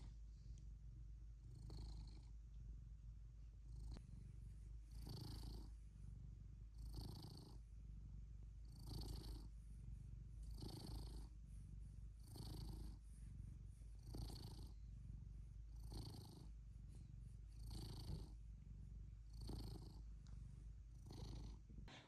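A cat purrs steadily up close, a soft rhythmic rumble with regular breathing pulses repeating every second or two.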